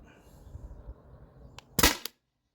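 A Tippmann TiPX paintball pistol running on an HPA tank with a TCR valve fires a single sharp, loud shot over a low background murmur, then falls silent.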